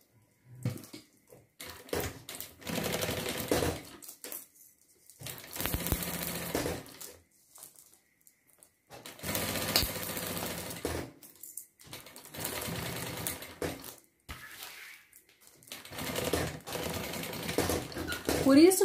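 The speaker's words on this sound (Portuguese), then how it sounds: "E agora eu vou costurar essa parte aqui." Sewing machine stitching a thermal bag runs in several bursts of rapid mechanical whirring, close and clear, separated by short pauses.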